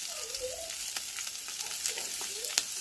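Chopped carrot sizzles as it is stir-fried in a pan with garlic and green chili for garlic Maggi noodles, a soft, steady frying hiss with faint stirring scrapes throughout.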